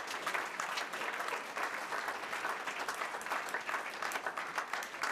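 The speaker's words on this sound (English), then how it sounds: "I think that deserves a round of applause." Convention audience in a large hall gives a round of applause, sustained even clapping from many hands, steady and full for the whole stretch.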